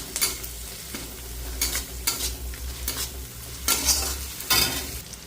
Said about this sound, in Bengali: পেঁয়াজগুলোকে পুরো লাল লাল করে ভেজে নেবো